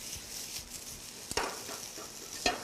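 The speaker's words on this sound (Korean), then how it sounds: "그 다음 손질한 곤드레 나물을 넣고요. 볶아줍니다." Prepared gondre greens stir-fried with a splash of water for a Bonghwa mountain-vegetable bibimbap: a quiet, steady hiss broken by a few sharp scrapes and clicks from the pan.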